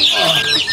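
Chickens cluck close by near their cages, a quick run of clucking calls with no talk underneath.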